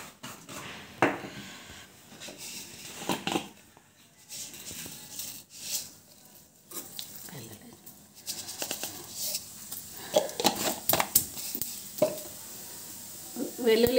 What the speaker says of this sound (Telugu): ఆవాలు, జీలకర్ర, కరివేపాకు, వెల్లుల్లి వేసుకోవాలండి.